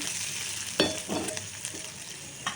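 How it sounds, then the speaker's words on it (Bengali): Sliced onions fry in hot oil for a village-style taro and small fish curry, giving a soft, continuous sizzle broken by a few sharp scraping stirs. "তেল দিয়ে তেলের উপরে পেঁয়াজ দিয়েছি"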